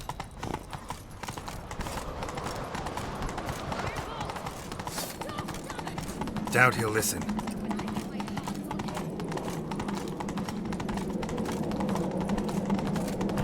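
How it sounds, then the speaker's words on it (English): Horse hooves clip-clopping at a steady gallop in The Witcher 3 video game, continuous throughout with a voice speaking briefly and game sounds in the background. "Grab a horse, we'll chase him down."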